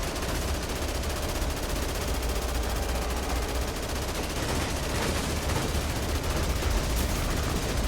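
Rapid gunfire in Dead Rising Remastered, aimed at a rocket during a boss fight, roars as a dense, continuous barrage with no pauses or talk.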